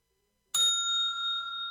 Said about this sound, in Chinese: 所以铃声正常